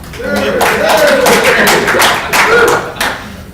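Audience clapping at a cellular signal booster dealer training session, a spread of claps and taps of moderate loudness with a voice speaking over them.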